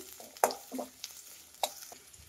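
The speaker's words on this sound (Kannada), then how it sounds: "ಒಂದು ಈರುಳ್ಳಿನ ನೋಡಿ ಈ ರೀತಿ ಉದ್ದು ಕಟ್ ಮಾಡಿಬಿಟ್ಟು ಹಾಕ್ತಾ ಇದ್ದೀನಿ. ನೋಡಿ, ಚೆನ್ನಾಗಿ ಫ್ರೈ ಮಾಡಬೇಕಿದು" Long-sliced onions frying in hot oil for an egg donne biryani, with a soft steady sizzle broken by a few sharp clicks and clatters of stirring; no talking.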